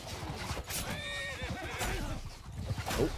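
A horse whinnies loudly in Mount & Blade II: Bannerlord, a rising and falling neigh over ongoing battle noise with clopping hooves, while someone talks over it.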